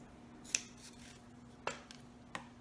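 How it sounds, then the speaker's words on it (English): Scissors trim fabric close to a stitch line beside a zipper while sewing a small bag, giving three separate sharp snips, quiet and close, with no talking. "We're just going to trim this off close to that stitch line."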